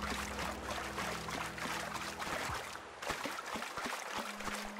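Flowing river water in the video game The Outer Worlds, a continuous rushing, trickling wash that runs steadily and fairly loud throughout, with a low hum underneath and no speech.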